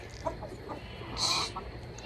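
A short, bright cluck from a chicken rises briefly in the middle, nearby, over a soft background hum with faint sounds around it.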